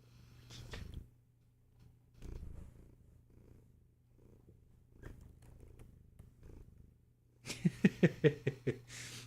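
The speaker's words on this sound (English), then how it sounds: "I'm trying to see if I can get it to purr into the mic." A cat purrs in soft low rumbles with breathy pauses, then a louder burst of rhythmic pulses near the end, close to the microphone.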